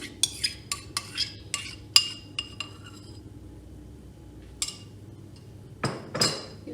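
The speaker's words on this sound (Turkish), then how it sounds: "Olmazsa olmazım sarımsaklı yoğurdumu da hazırladım. Şöyle ortasına döküyorum." A spoon scrapes and taps against a serving plate while garlic yogurt goes onto oven-fried vegetables, giving a run of sharp metallic clinks followed by a pause and a few softer scrapes. Close and crisp, with no talking.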